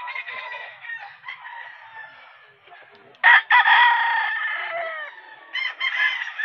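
A gamecock rooster crows nearby at a pet market, several drawn-out calls with clucking between them, loud and close with no talk over it.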